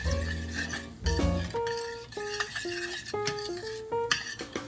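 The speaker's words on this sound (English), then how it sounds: "I'm gonna kind of take that off the heat and stir that in" Utensil stirs whole grain mustard into a pan sauce, clinking against the pan in a quick run of scrapes and chimes with faint background sizzle.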